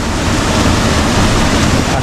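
A large waterfall about 10 metres high, boxed into a rocky cavity at Salto del Usero in Murcia, roars as a dense, loud, unbroken wash of falling water.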